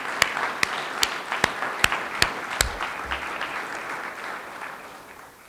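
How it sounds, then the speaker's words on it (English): A crowd applauds at a museum dedication and ribbon cutting, steady clapping with about seven sharp loud claps near the microphone at a regular beat, the crowd's applause slowly fading toward the end. "This deserves a round of applause."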